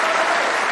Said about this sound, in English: he enjoyed that, and so did the crowd here. Mark Allen even applauding